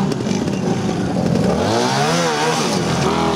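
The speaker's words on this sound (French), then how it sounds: "et qui roule avec la moto, la 175 Honda" Honda 175 trial motorcycle engine at a classic trials event, loud and close, a buzzing two-wheel engine note that climbs in a clear rev sweep midway, with some clatter under it.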